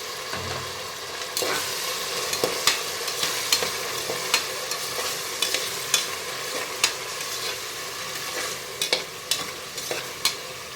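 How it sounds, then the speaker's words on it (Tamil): Tomatoes with ginger garlic paste sautéing in a pan, an even sizzle punctuated by regular sharp scrapes and clinks of a spoon stirring, no voices. "இப்போ தக்காளி நல்லா வதக்கி விடலாங்க."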